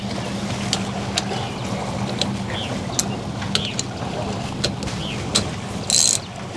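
A ratchet spins NGK spark plugs down into a Yamaha Waverunner engine, with repeated close clicking of the pawl in steady bursts over low background noise.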